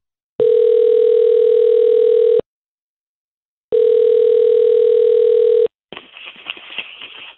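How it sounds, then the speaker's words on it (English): A telephone call being placed: two loud, steady dial-style tones of about two seconds each, separated by a short silence, followed by a fainter crackling line noise. "I'm going to call Tom and tell him what you're doing"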